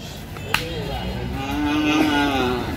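A drawn-out cow moo at the Sajanpur cattle market in Kishoreganj, Bangladesh, rises and holds near the end, preceded by a brief sharp knock and quiet ambient noise.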